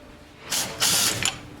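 A ratchet wrench with a 5/16 or 8 mm socket clicks in three short rapid bursts, close and fairly loud, with quiet gaps between them.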